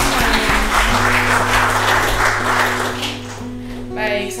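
Short burst of audience clapping at an Indonesian election outreach session on the 2024 regional elections in Maluku, a steady dense patter over a sustained low hum that fades toward the end.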